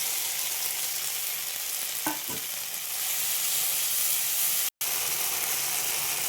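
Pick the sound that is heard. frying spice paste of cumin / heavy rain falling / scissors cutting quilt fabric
frying spice paste of cumin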